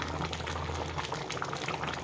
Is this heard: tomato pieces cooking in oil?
yes